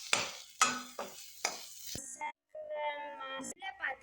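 Onions and curry leaves sautéing in a pan are stirred in about four quick, close scraping strokes over a light sizzle, which then give way to a quieter, tonal, voice-like sound.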